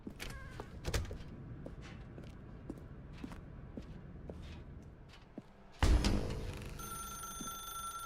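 Telephone ringing inside The Stanley Parable 2 video game, a sudden loud bell-like ring breaking in after quiet stretches of soft footsteps and thuds, then sustained to the end.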